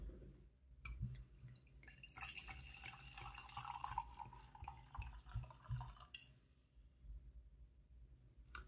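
Heck's Brown's Apple keeved cider is poured into a glass, giving a soft, close splashing and trickling for a few seconds before it tapers off into quiet.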